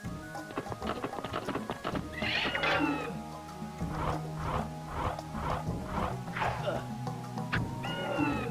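Horses neigh and whinny in a Heroes of Might and Magic: Ironfist battle, with several high whinnies and hoof clatter over game effects and background music.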